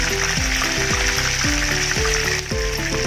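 Chicken wings deep fry in hot oil over a strong flame, giving a steady, dense sizzle with bubbling throughout and a short dip in loudness near the end.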